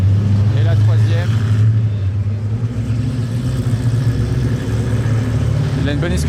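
Hypercars back from driving on an ice circuit in the snow at Saint-Moritz, Switzerland, pass with a steady, loud low engine rumble. Voices talk over it.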